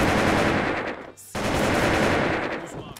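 Rapid automatic gunfire from a weapon in the online shooter Wolfteam, a loud, dense burst that pauses briefly near the middle and then resumes, continuing sustained to the end.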